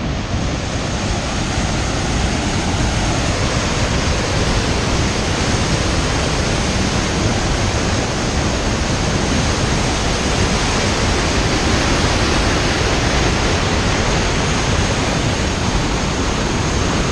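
Evolution Creek on the John Muir Trail, swollen in a big snow year, roars as a constant, loud wash of rushing water, a dense unbroken torrent filling the whole scene.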